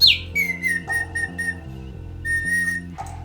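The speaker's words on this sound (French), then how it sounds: "On pompe de l'air ambiant extérieur dans un réservoir. Et ensuite, on expulse l'air dans un sifflet." Mechanical automaton bird chirps as bellows push air from a reservoir through a small whistle, a piston shifting the pitch, giving a quick run of clear whistled notes that step between low and high tones.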